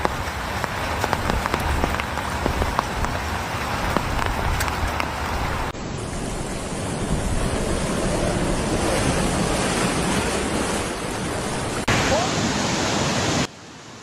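Floodwater rushes through downtown Chengdu during severe city floods, a dense, steady roar like heavy surf that runs unbroken from start to finish, with a few abrupt cuts between shots.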